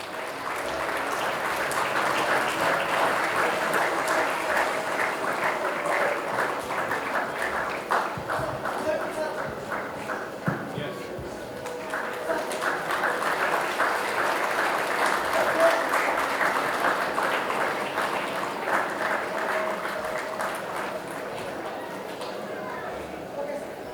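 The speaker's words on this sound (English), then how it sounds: "Let's give them a big round of applause." A school audience claps at an annual day ceremony. The applause is broad and sustained for over twenty seconds with a slight dip midway, and faint voices mix into the crowd noise.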